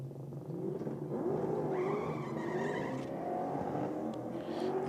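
A yellow Tirana and a Go Logistics Ford Falcon launch down a drag strip with the Falcon's wheels slipping, engines revving and climbing in pitch, heard faint and distant for several seconds.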